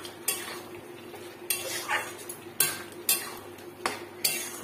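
Spatula scraping and clattering against a metal wok as lotte fish (Bombay duck) bhuna curry is stirred while drying down, in sharp, close strokes repeating every half second to second over a soft sizzle.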